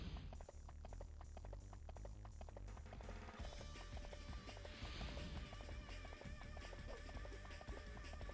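Galloping horse hooves in Dynasty Warriors 3 Xtreme Legends, a steady rapid clatter mixed under continuous game music and effects, fairly loud and unbroken throughout.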